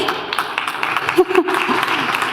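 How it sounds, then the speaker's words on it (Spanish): Brief burst of crowd applause, steady clapping filling the moment with a few louder claps. "Por favor, el escenario, un aplauso para él"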